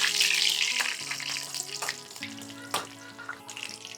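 Mustard seeds, broken dried red chillies and a sprig of curry leaves fry in hot oil for a Kerala sadya tempering, giving a bright crackling sizzle up close that fades slightly over a few seconds, with no voices.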